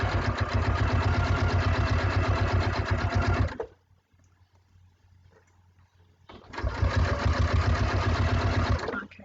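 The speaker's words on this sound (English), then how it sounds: "I'm going to sew along" A sewing machine runs loud and steady while stitching binding onto a quilt, with a rapid needle rhythm in two long bursts separated by a quiet pause of a few seconds.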